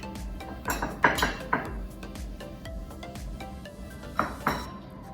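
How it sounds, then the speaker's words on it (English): Serving spoon scooping Jerusalem artichoke pasta onto a plate, heard as a few light clinks and taps of utensil against dish in short bursts, close and fairly soft, with no talking. "So I'll just scoop out a few scoops of the pasta"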